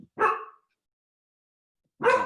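Two sharp barks from a corgi, a short bark near the start and another after a pause of over a second, loud and close with nothing else heard.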